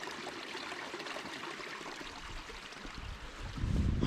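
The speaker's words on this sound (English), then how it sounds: "there's like water flowing underneath my feet down these holes" Water runs beneath rocks and drains down into deep holes at Drumore Dam in Scotland, a steady trickling rush that grows louder and rumbles more heavily near the end, with no voices.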